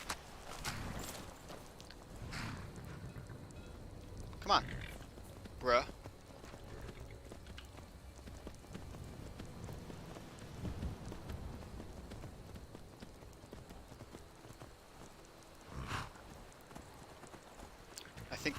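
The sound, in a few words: horse hooves clip-clopping in video game Skyrim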